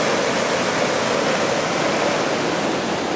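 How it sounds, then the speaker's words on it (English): The South Fork of the Kern River flows as a loud, continuous rush of water, heard up close and alone. "crossing the South Fork of the Kern River"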